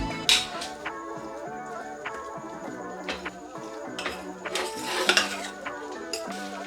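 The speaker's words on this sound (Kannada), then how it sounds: "ಲೋ ಫ್ಲೇಮಲ್ಲೇ ಈ ರೀತಿ ನಾವು ಇದನ್ನ ರೋಸ್ಟ್ ಮಾಡ್ಕೊಳ್ಬೇಕು" Grated coconut roasts in a pan over a low flame while a spoon scrapes and clinks against the metal in an irregular rhythm, with occasional louder knocks, as someone talks throughout.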